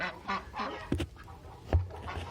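A goose honks a few times nearby, short harsh calls with a louder blast near the end, alone without talk.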